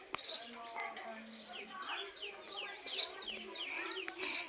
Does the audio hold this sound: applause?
no